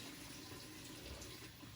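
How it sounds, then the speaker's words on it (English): Hot water running from a kitchen tap into a pot, a continuous, steady gushing stream, fairly faint and heard alone for a short moment. "Run some hot water in it."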